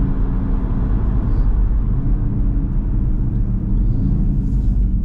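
An Audi RS3 of nearly 500 hp with an automatic gearbox cruises along, its engine a steady low rumble heard from inside the cabin, with no talk.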